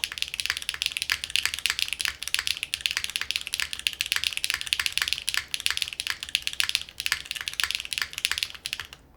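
Rapid, continuous typing on a Stratum-80 mechanical keyboard, with light clacky keystrokes in a steady, busy rhythm, close up and heard alone.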